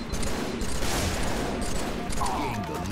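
Shotgun fire in the video game Halo 3 pops and booms in a dense, busy stretch of gameplay action, with a player talking over the shots.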